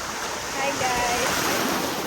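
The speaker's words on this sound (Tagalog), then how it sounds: "Sobrang lakas ng alon." Strong ocean waves crash on the shore at Bolinao, Pangasinan, as a loud, continuous broadband roar of surf swelling midway through, with wind buffeting the microphone.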